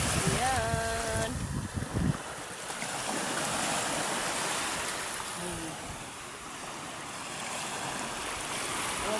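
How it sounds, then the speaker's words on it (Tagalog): Waves wash onto the shore at a beach resort with a broad, steady surging hiss that swells and ebbs, and a brief pitched sound cuts in near the start. "maririnig ng hampas ng alon"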